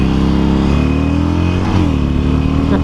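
A Harley-Davidson Iron 883 set up as a low cafe racer rumbles along at close range, its engine loud and continuous with gear shifts and changes in pitch while riding, and no voices.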